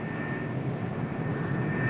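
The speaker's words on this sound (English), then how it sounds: "It's just a matter of me starting engines and taxiing and running the engines" Engines of a U-2 reconnaissance aircraft run steadily at a distance, a constant low roar with a faint whine, with no voices over it.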